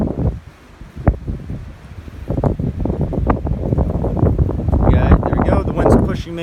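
Outdoor wind buffets the microphone steadily, rushing and gusting louder toward the end, with rustling underneath and speech over it.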